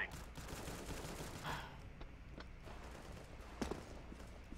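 Counter-Strike gunfire in an online match, with quiet rattling bursts of rapid shots and a few sharper single cracks. Faint voices sit under the shooting.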